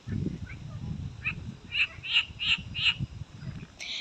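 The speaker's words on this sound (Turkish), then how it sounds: "Kurbağaların konseri şu anda var." Frogs croaking along a small creek, a run of five or six evenly spaced, bright croaks in the middle of the clip over low, continuous background rumble.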